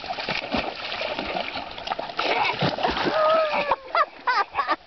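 A dog falls off a log into water, splashing and sloshing close by, with trickling and a few bird-like squeaks toward the end.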